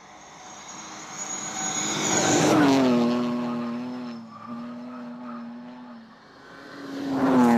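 A rally car driven on an ice course in Finland, its engine note rising and falling through gear changes, swelling loud, dipping, then climbing again as the car passes fairly close.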